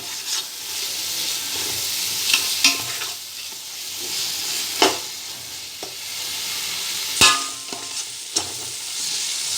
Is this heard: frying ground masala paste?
yes